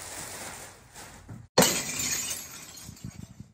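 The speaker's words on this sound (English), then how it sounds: "Why would that make a glass crashing noise?" A sudden, loud crash of shattering glass bursts out right after a brief drop to silence, then trails into a long scattered tinkling decay with low rumbles beneath.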